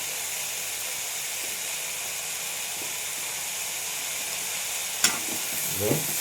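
Spices such as cumin powder, garam masala and turmeric are stirred into broad beans (avarakkai poriyal) frying in a pan, giving a steady sizzle with a sharp scrape near five seconds and brief stirring clatter just after.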